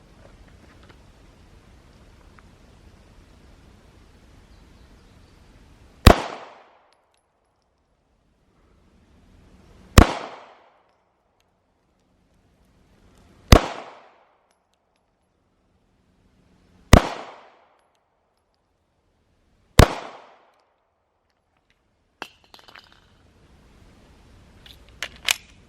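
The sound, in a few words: handgun shots fired at target range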